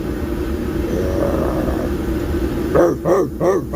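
A shop dog gives a few short, loud barks close by, following a steady background hum in a workshop.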